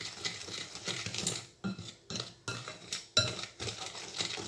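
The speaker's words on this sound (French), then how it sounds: "on commence d'abord par mélanger les ingrédients dits secs" Dry cake ingredients and flour are mixed in a bowl for a caramelized pineapple upside-down cake, giving rhythmic scraping and clinking strokes of the utensil against the bowl, close and moderately loud, in repeated bursts with brief pauses.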